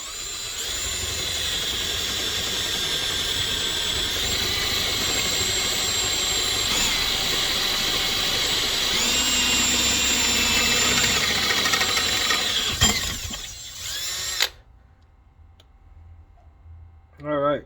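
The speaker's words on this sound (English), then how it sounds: "so let me drill this hole" A power drill bores a hole in a GM B-body chassis to fit a sway bar mount, running as a steady, loud whine for about thirteen seconds, then cutting out with a few clicks and quiet after.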